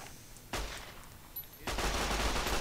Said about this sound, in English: Got a 9mm SMG.